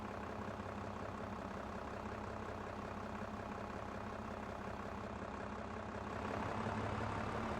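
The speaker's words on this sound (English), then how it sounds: "I will leave this tractor over here" A tractor engine in Farming Simulator idles steadily with a low, even rumble that holds at constant loudness throughout, with a slight swell near the end.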